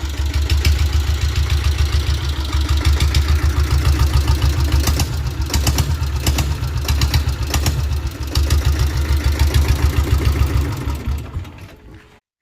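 Diesel Royal Enfield Bullet motorcycle, restored, idling steadily with a loud, even thumping beat close up for about eleven seconds, then cutting off abruptly into silence.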